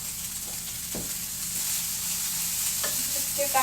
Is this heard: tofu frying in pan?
yes